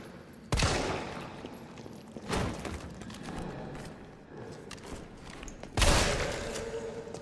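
Gunfire in the Resident Evil 3 remake: three sharp, loud shots ring out several seconds apart, each with a booming tail, over continuous game ambience and rumble.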